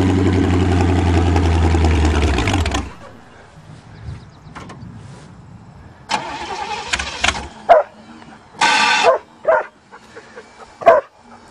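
A dog barks several times in short, sharp bursts near a car on a farm, following a loud engine that cuts off abruptly after a few seconds.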